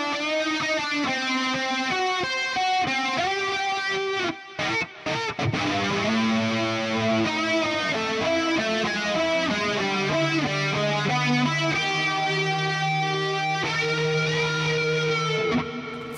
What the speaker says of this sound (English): So this is the guitar solo that I came up with.